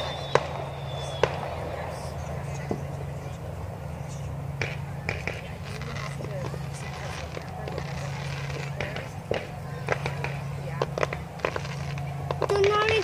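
Fourth of July fireworks in Rapid City crackle and pop in a steady scatter of sharp bursts, some near and some distant, over a low hum while people chat nearby.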